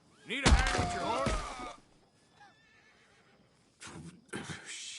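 A horse in the video game Red Dead Redemption 2 lets out a loud, close whinny with a thud, then goes quiet before some brief rustling and a couple of short, lower bursts of noise near the end.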